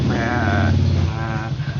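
A human voice imitates a sheep's bleat, a loud, close, quavering baa held for about a second, followed by a shorter, weaker second bleat.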